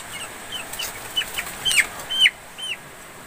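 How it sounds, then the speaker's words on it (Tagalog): Several short calls from backyard chickens ring out against a soft, steady background hiss, scattered irregularly with brief pauses between them. "Yan ang ating mga manok."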